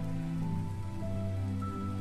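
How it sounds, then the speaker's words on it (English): Rain falls steadily on a surface in a game scene, a dense even patter with a soft tonal music layer running underneath. "Oh, it's raining."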